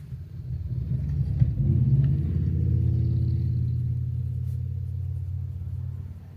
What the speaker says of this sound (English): Sorry for the traffic in the background too.